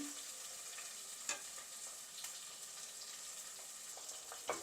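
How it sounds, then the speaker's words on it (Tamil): Chopped onion sautéing in oil for crab masala, a faint steady hiss and sizzle with a few soft spatula scrapes against the pan, no talking. "பெரிய வெங்காயமாக ஒரு வெங்காயம் அதையும் சேர்த்து நல்லா வதங்க விடுவோம்"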